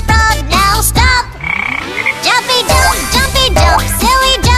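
Croaking frog sounds set into an upbeat children's animal action song, with repeated ribbit-like calls over bouncy music and sung vocals, loud and close throughout.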